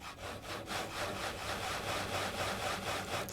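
Rhythmic back-and-forth strokes of a hand saw cutting logs into planks in Project Zomboid, steady repeated rasps at an even pace, fairly quiet and heard alone without talk.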